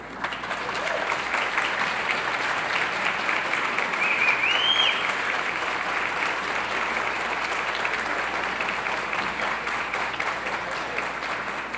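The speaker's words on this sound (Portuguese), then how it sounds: "salva de palmas" An audience at a panel event on child labour gives a sustained round of applause, dense steady clapping from a large crowd filling the room throughout, with no pause.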